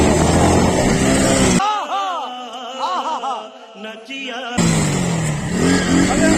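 A motorbike engine revs hard and loud up close at the start, then drops away while someone talks, and comes back roaring at the end.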